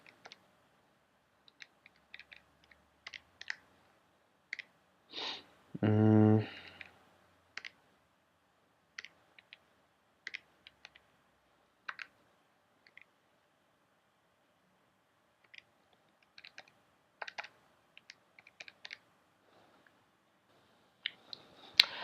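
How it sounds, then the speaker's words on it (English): Scattered light clicks of calculator keys being pressed as numbers are entered, faint and irregular with quiet gaps between presses, plus one brief louder buzzing noise partway through. "I'll do it here on my calculator. I'll type in all."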